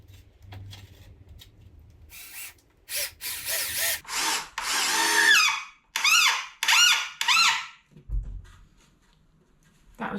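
A power drill drives screws into a plastic sand and water table in several loud, squealing bursts of varying length with short pauses between them, and quiet hum at the start and end.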